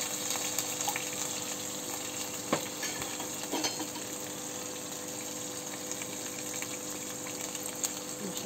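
Masala spice paste frying in hot oil, a steady low sizzle with faint stirring scrapes and a couple of brief clicks, close and continuous with no talking.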